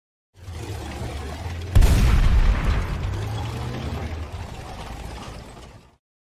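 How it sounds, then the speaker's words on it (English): A tank rumbles in with heavy clanking, grinding tracks, then a sudden loud boom, followed by a sustained mechanical rumble that fades out. "Tank. tank."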